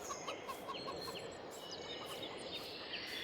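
Chickens cluck and call repeatedly in the Farming Simulator 22 video game, kept on a farm to produce eggs for cake, forming a steady busy flock chatter at moderate volume with no talk.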